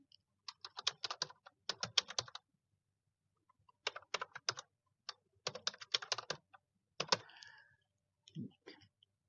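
Bursts of rapid keystrokes on a computer keyboard while a repository description is typed, close and clear, in several short runs separated by pauses, with no talking.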